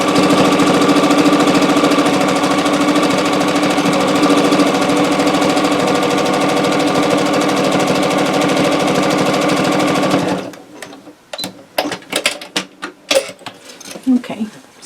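A sewing machine runs steadily, stitching across a minky quilt for about ten seconds, then stops and gives way to scattered clicks and handling noises of fabric and pins up close.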